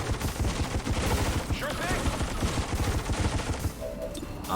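Rapid bursts of automatic gunfire in XCOM 2 against orcs, dense and continuous, a loud, chaotic firefight with overlapping shots for several seconds before a brief lull.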